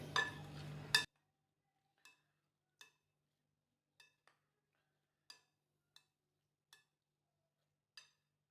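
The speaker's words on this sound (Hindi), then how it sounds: "मिक्स करेंगे।" A spoon stirs ground paste into yogurt in a bowl while making dahi phulki. After a brief burst of kitchen noise, about eight faint, evenly spaced metallic clinks follow, each one short and isolated against near silence.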